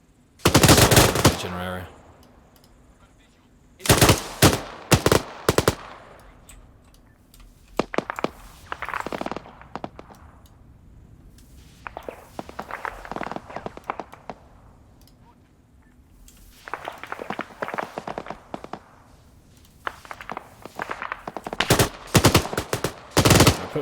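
Bursts of automatic gunfire from the video game Arma 3 during a night operation under illumination, several loud volleys separated by quieter stretches, with a brief spoken comment.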